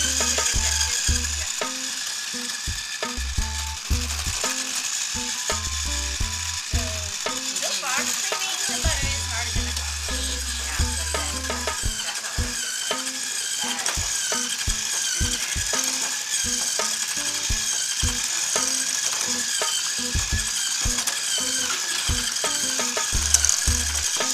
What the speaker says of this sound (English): going to now use the mixer, and she's going to be creaming the butter, the sugar, and the vanilla